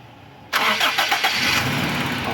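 A Toyota Revo engine cranks with a few quick starter pulses then catches and settles into a steady, close idle, with no talk over it.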